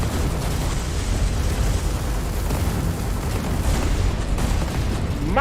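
Continuous heavy rumbling blasts and booms from space combat in the game Everspace 2, dense and loud throughout, with no pauses.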